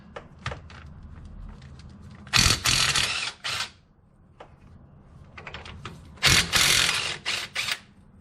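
A ratchet with a 5/8 socket clicks away at the axle caps on the front Dana 30 axle of a 1998 Jeep Cherokee XJ, two loud close bursts of rapid ratcheting with a few lighter clicks between.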